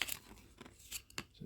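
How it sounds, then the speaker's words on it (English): Scissors snip off a tag on a clown mask being painted, giving several quiet, crisp cuts at irregular intervals, close up and faint. "I just need to cut this off."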